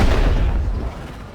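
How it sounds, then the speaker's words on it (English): Missiles and flares launch from a fighter ship in the space game Star Citizen, a heavy rumbling boom that starts loud and slowly fades over a second or so, with no talking. "I launched 2 missiles there, and it still felt like it hit me."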